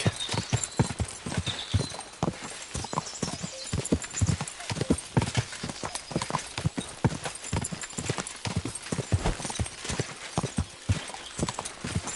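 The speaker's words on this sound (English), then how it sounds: "That looks like a bloody expensive horse." Horse hooves clip-clop steadily in the video game Kingdom Come: Deliverance on PS5 Pro, a brisk, continuous rhythm of close hoof strikes with faint background sounds.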